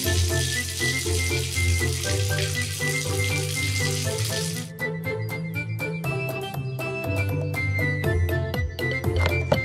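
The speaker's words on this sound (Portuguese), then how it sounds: "Remova a espuma com água." Cartoon water spray rinsing foam off a vehicle, heard as a loud, continuous hiss for about the first half, then giving way to a bright, jingling music track.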